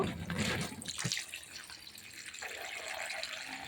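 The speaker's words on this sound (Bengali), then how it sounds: "আলুটা ধুয়ে নেব" Running tap water splashes over a potato being washed at a sink, a steady close rush of water with brief clatters and shifts in the flow, no talk.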